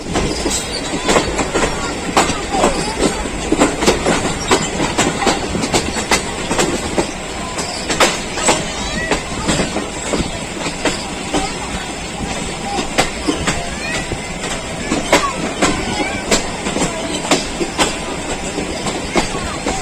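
A Pakistan Railways passenger train on the Lahore to Rawalpindi line runs along the track. Loud, steady rumble and rhythmic clickety-clack of wheels over rail joints continue throughout, with occasional wheel squeal and faint voices underneath.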